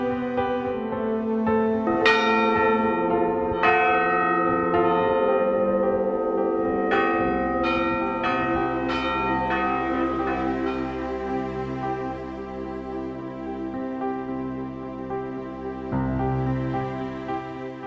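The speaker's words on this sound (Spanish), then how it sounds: "aquesta nota que dona aquesta campana és del 1313" A large church bell, cast in 1313, rings with deep, long-sustaining tones, struck several times at uneven intervals, each strike blooming and slowly decaying into the next.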